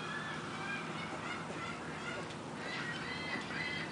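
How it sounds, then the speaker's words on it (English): Geese honk in a loose flock, faint and somewhat distant, repeated calls rising over a steady outdoor background. "You see the birdies and you hear the birdies?"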